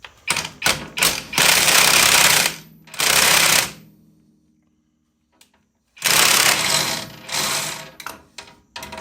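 A power tool hammers a Torx bolt out of a motorcycle clutch during a primary and secondary clutch upgrade, loud rapid rattling bursts stopping and restarting with a silent pause in the middle.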